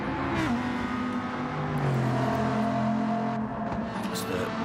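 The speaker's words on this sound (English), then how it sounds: "Ooh, big heavy W12 being dragged down the street." A heavy Bugatti W12 race car engine roars loudly and continuously in a racing video game, its pitch sliding down and then climbing as it labors along a street circuit, with tire noise and faint commentary underneath.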